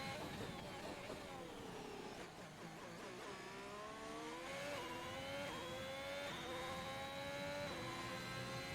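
Race car engines in a racing video game at Bahrain International Circuit whine and rev through rising gear shifts, a loud continuous motor drone that climbs in pitch again and again.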